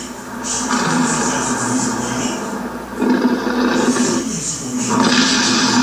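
A giant fox beast roars in the Naruto Ultimate Ninja Storm 3 video game, a loud sustained growling rumble that swells in two or three surges over roughly six seconds, with game effects layered beneath.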